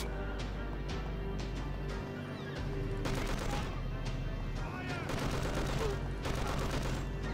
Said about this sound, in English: Why would you shoot that guy?